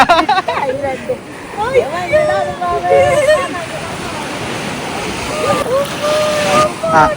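Ocean waves roll and wash continuously on a beach with wind noise, while several people talk and call out excitedly over the surf.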